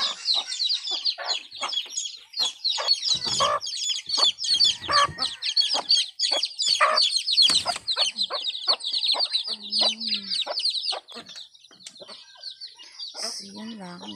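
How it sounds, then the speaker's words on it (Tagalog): A flock of domestic chickens at their new coop clucks and chirps continuously nearby, dense overlapping calls with brief louder squawks, easing slightly toward the end. "Mga alagang manok."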